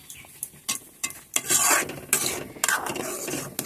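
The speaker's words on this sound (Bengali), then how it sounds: "ছোটো চামচে দিয়ে এটা খুব ভালো করে গুলিয়ে নেব" A small spoon stirs chili powder into a tomato sauce in a bowl, making close scraping swirls and light metallic clinks against the sides in quick, uneven strokes.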